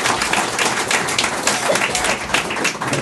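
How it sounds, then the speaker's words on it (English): Applause from an audience at a film showcase Q&A, a steady dense clapping wash that fills the whole moment at fairly even loudness, with scattered voices mixed in. "So a massive round of applause for these 2."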